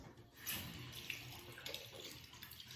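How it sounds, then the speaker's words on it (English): A Foreo UFO mini rinsed under running tap water, a steady faint splashing hiss with a few small spatters, close by and without talk. "then you just rinse it off with water"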